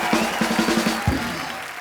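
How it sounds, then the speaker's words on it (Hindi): Studio audience applause at a Hindi TV comedy show, a steady wash of clapping filling the room with a few louder bursts, running throughout without voices over it. "जोरदार तालियां हो जाए ऋतिक भाई के लिए"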